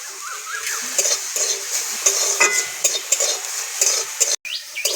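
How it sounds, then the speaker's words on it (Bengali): Chopped onion with a pinch of salt stirred in a dry pan with no oil, a steady scraping and soft sizzle at close range, continuing throughout without talk. "শুকনো খোলায় নেড়ে ছেড়ে নেবো পেঁয়াজটাকে"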